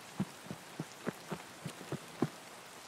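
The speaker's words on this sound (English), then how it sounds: "No, the rain." Rain falling in Escape From Tarkov, heard as a sparse, irregular patter of distinct drops and soft taps over a quiet hiss, with no talk over it.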